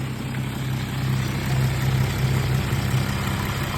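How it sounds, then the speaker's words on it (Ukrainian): A steady car engine drone at high revs with a low rhythmic knocking running through it, continuous and fairly loud, with no voices. "стукає мотор на оборотах"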